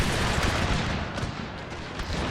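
Mortar fire in a Total War battle set in the Thirty Years' War, a dense, continuous rumble of booming shots and gunfire that blurs into one another, loud and sustained with no talking.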